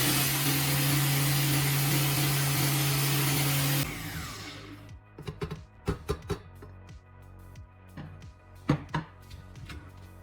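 A homemade grinder with a blade spinning in a pot runs loud and steady, then cuts off abruptly, leaving a series of sharp knocks and clatters as the corn settles.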